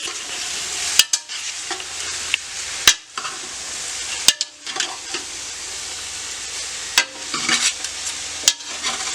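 Minced meat and vegetables stirred in a hot frying pan, a steady sizzle and scraping under repeated spoon strokes, with a few sharp clacks against the pan, close and fairly loud.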